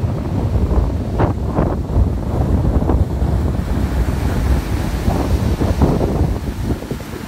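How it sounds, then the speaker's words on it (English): Ocean waves roll in with a slight storm surge at Town Neck Beach in Sandwich, a steady loud wash of surf mixed with heavy wind buffeting, with no voices over it. "In addition to these waves,"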